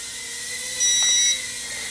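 Tiny motors of a micro whoop drone whine at a high pitch, with a brief rise in intensity as the throttle is pushed during a flip, heard close and alone.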